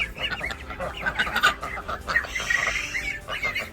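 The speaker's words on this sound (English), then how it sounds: "Ducks. Quiet, will you?" Ducks quack loudly and persistently near a greenhouse, a dense overlapping chorus of honking calls that runs through the whole stretch with no pause.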